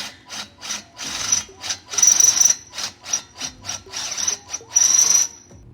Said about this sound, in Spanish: Con una broca pequeña puede marcar el punto. Y luego usar la broca que hicimos.